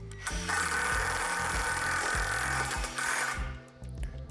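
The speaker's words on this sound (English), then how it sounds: "We're going to secure the two poles together by inserting a self-tapping screw into the small hole on the opposite side of the pole." A power driver whirs as a self-tapping screw is driven into a playset's steel pole, with a steady motor whine and clicking mechanical ratchets that wind down near the end.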